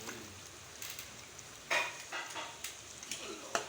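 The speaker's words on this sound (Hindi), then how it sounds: "अभी हम फ्राई किए हुए गोश्त में इसको शामिल कर देंगे।" Ground spice paste is added to fried beef for korma, giving a soft, continuous sizzle broken by light scraping stirs and a few sharper clinks against the pot.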